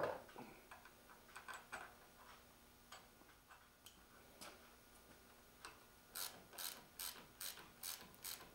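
Ratchet strokes tighten bolts on a 1955 Buick Century power steering gear: quiet, close clicking in short repeated bursts, growing into a regular sharper rhythm toward the end, with no talking.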